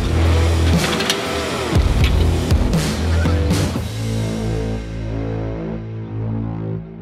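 A GMC truck with a turbocharged 5.3 engine, built to around 800 horsepower, cranks over and fires, then revs up loudly before settling into a steady, deep idle, close by with no talking.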